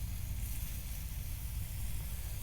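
Smash burger patties frying in their own fat in a hot pan at high heat, giving a steady, close, even sizzle that holds without breaks.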